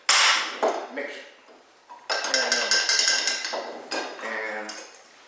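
Metal utensil clinking and scraping against a container while stirring a mixture of rust and food coloring, a series of bright irregular rattling clinks and pings, close and moderately loud.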